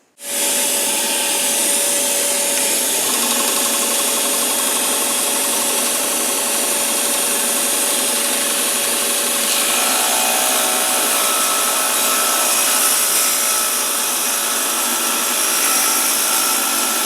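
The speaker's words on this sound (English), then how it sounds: "And let's go ahead and do a cut now." A Byrnes table saw, blade tilted to 5 degrees with the fence locked, rips a taper through wood in one long continuous cut, a loud close whining roar with a steady hiss throughout.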